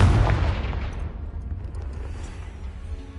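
A Confringo fire spell explodes in Hogwarts Legacy, a heavy boom that bursts loudly at the start and then rolls off into a long, fading low rumble, with no speech.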